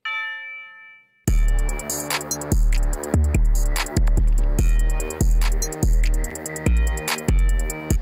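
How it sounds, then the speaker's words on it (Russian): A bright bell rings out alone, then repeats in a rhythmic pattern over punchy bass hits in an evil plugg type beat, striking loudly in time with the beat. "Я добавил вот такой вот колокол, вы его тоже часто могли слышать"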